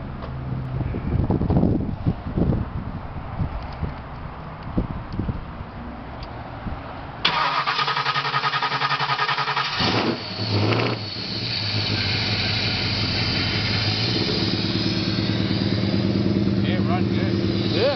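An engine with a blower starts at about seven seconds and runs steadily and loudly after the cranking, with talk and wind noise over the earlier part.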